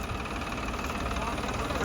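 A New Holland tractor idles on a farm with a close, steady engine rumble and a constant low throb, and a voice is faintly present under it.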